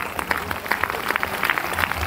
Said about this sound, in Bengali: গোল্ডেন সলিউশনের টিমের জন্য একবার জোরদার হাততালি